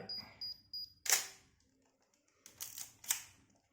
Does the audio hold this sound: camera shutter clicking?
yes